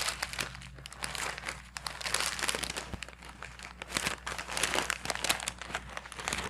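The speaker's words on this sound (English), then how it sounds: "we are going to roll this immediately with the parchment paper" Parchment paper crinkles and rustles continuously as a warm Swiss roll sponge cake is rolled up inside it, a close, fairly quiet crumpling texture without speech.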